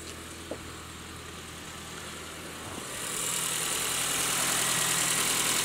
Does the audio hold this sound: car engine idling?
yes